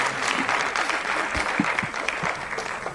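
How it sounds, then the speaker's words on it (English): An audience applauding parents at a children's sports summit, a moderate, steady patter of many hands clapping at some distance, somewhat subdued, with no speech over it. "I think we should have a round of applause for their parents as well"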